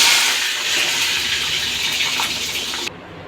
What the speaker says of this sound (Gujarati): તો હવે આપણે લીલા મરચાં જે કાપ્યા હતા એ તળી લઈશું.